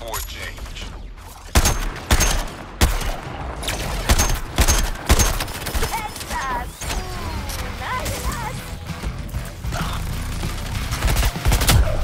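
Heavy gunfire from fire support in Suicide Squad: Kill the Justice League, rapid bursts of loud shots and impacts layered over a dense, busy game soundscape, with some voices mixed in.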